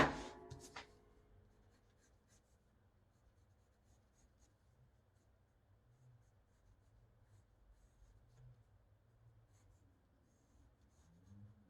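Pen nib inking over a pencil drawing of an action pose, giving soft close scratching and rubbing strokes with a sharper tap at the start, steady and faint with no talk.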